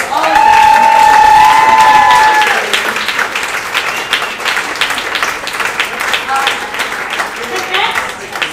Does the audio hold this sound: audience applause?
yes